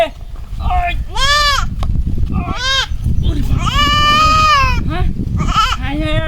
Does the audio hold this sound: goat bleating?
yes